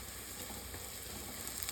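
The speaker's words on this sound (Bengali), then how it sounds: "আর একটু বেশ লাল লাল করে বড়াটাকে ভেজে নিতে হবে" Bora fritters frying in hot oil until deep reddish-brown, a steady dense sizzle and crackle running unbroken at an even level throughout, with no voices.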